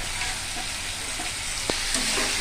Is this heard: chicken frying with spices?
yes